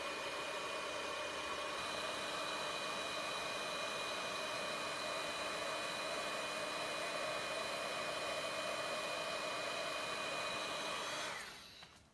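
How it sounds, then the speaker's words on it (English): A heat gun blows a loud, steady whoosh of hot air for about eleven seconds as it melts embossing powder on a stamped card, then switches off at the end. "So you let your heat gun get hot, and then aim it at your stamped image, and you'll see the embossing powder start to melt."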